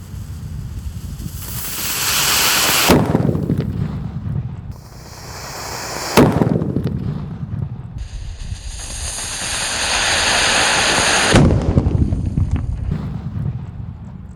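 Imported firecrackers set off inside a barrel during Eid al-Fitr festivities burst with loud, sharp blasts, each followed by a long hissing, roaring decay outdoors, three or four explosions in succession.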